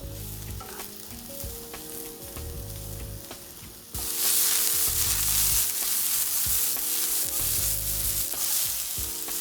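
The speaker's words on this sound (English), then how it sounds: "now add in the mushrooms that are sliced. Cook the mushrooms for a minute." Sliced mushrooms frying with vegetables in a pan over high flame, a steady sizzle that jumps to a louder, brighter hiss partway through, with occasional stirring scrapes and no talking.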